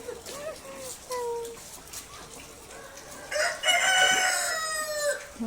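Chickens cluck at a poultry farm with tens of thousands of birds, then a rooster crows loudly nearby, a prolonged strained call near the end, while people talk in the background.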